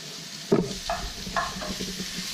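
Mushrooms frying in a pan and softening as they brown, sizzling steadily while a few sharp scraping stir strokes cut through near the start and middle, close up and without voices.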